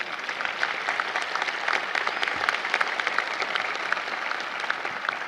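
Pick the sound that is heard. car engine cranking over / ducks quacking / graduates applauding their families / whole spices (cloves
graduates applauding their families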